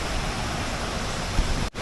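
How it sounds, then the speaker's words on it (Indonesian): A waterfall roars as a steady, loud broadband rush that fills the whole clip with no talking. It cuts out in a short dropout near the end. "kita sepertinya udah sampai nih di air terjun"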